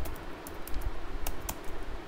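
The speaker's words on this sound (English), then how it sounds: "you can simply type here the command adb connect" Someone types an adb connect command on a computer keyboard in quick, irregular bursts of close, crisp key clicks, with no talking.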